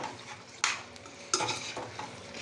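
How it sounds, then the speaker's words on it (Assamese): Chicken fries with garam masala in a pan while a spoon stirs it, several distinct scraping strokes rising over a low steady sizzle, close by with no one talking. "এইখিনি এনেকৈ লৰাই ভাজিলোঁ"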